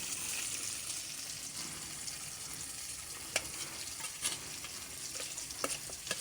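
Oil sizzles in a pan over a home cooking fire as fish and eggplant curry is cooked, giving a steady, close hiss with occasional clicks from stirring.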